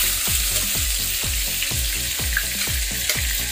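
Onion and softened dried Bombay duck fish (loitta shutki) fry hard in hot oil, a loud, steady sizzle with a rhythmic series of stirring scrapes about every third of a second, close and without talk.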